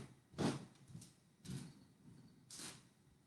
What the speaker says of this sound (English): I'm going to let my cat out before she claws the door up